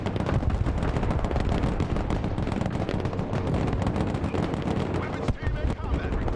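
Truck-mounted ZU autocannons on Ural trucks fire in the video game Broken Arrow, a dense, continuous barrage of rapid heavy bursts and booms that stays loud throughout, with battlefield clamor layered underneath.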